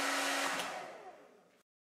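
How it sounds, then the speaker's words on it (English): A hair dryer blowing with a loud, steady whoosh that gradually weakens before cutting off abruptly. "connect the hair dryer to the outlet. Turn the hair dryer on."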